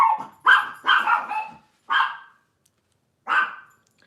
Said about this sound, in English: Dog doesn't know when to shut up.